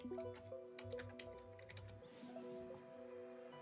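Keys tapped on a computer keyboard while entering a root admin password, quick irregular soft clicks fairly close, over a steady low hum and faint background tones.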